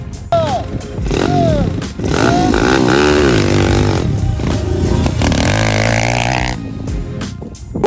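An electric motorcycle and a YCF dirt bike ridden hard off-road, with loud rising and falling revs, clattering and scraping close by, and a voice shouting over the engines.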